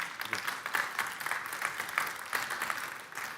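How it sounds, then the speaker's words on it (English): Audience applause at a hardware startup pitch event, steady dense clapping from a crowd throughout, fairly faint and distant, with no speech over it. "Big applause for 3D printing."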